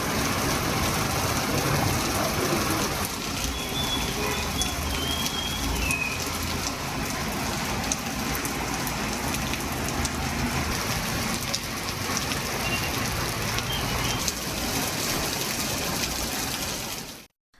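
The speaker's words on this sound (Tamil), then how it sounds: "உதகை சேரிங்கிராஸ் தாவரவியல் பூங்கா, மத்திய பேருந்து நிலையம், மாவட்ட ஆட்சியர் அலுவலகம் போன்ற பகுதிகளில் பெய்த கனமழையால் சாலையில் மழைநீர் பெருக்கெடுத்து ஓடியது" Heavy rain pours steadily in Ooty, near Charing Cross, the Botanical Garden and the central bus stand, with rainwater running along the roads. A dense, constant hiss of downpour and splashing water fills the whole stretch, loud and close.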